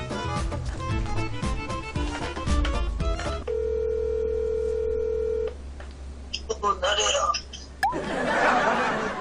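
A phone call being placed: a short run of dialing tones, then a steady ringback tone of about two seconds, followed by quiet and a voice laughing and talking.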